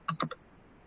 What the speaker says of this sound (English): Let's see if I can type this in quickly.